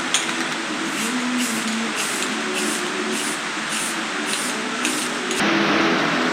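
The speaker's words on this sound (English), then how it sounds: "I'm just going to spray a little bit of paint on it." A spray paint can hissing onto a reconditioned wheel in long, steady bursts broken by brief pulses, close and loud, with no talking over it.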